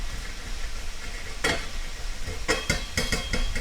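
Sausages get stirred and pushed around a hot frying pan for a veggie pesto pasta, a constant sizzle broken by several close scraping clatters of the utensil against the pan.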